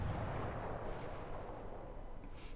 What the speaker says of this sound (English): So we're peppering him with shells.